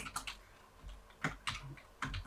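Someone types on a computer keyboard while entering Arabic-script text in font design software. A short run of quick, light keystrokes sounds close but soft, irregularly spaced, with no talking.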